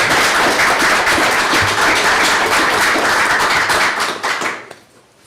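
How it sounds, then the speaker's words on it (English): Loud, close round of applause from attendees at a board meeting, steady clapping for about four seconds before quickly tapering off into quiet. "Can we give them a round of applause?"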